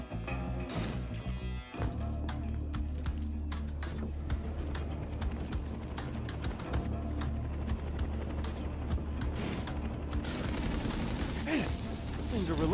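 Auto turrets firing in the action video game inFAMOUS Second Son, a dense, relentless stream of rapid gunfire with sharp cracks and mechanical clatter that runs loud and continuous, building toward the end.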